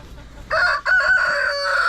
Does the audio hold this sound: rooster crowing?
yes